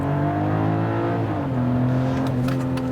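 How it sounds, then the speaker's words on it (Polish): A BMW X3 M50's longitudinal inline-six B58 engine pulls hard under acceleration, a loud, steady, smooth drone whose pitch climbs, dips with a gear change, then climbs again, with no one talking over it. "słyszycie tylko prawdziwe, rzędowe, ułożone wzdłużnie 6 garów silnika B58"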